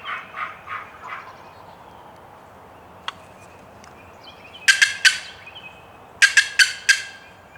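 Wild turkey gobbling during an opening-day hunt, answering a box call: soft rasping call notes open, then two loud, rapid bursts of gobbles ring out in the outdoor air with a single sharp click between them.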